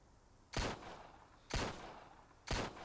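Three evenly spaced, sharp gunshot bursts of suppressing fire in the Empire of Sin game, each a loud crack with a short tail, about one second apart over quiet background.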